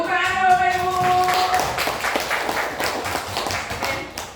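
Applause from an audience of teachers at an online training session, a dense patter of many hands clapping that fills the whole stretch, with a few short tonal squeaks and a voice briefly over it near the start.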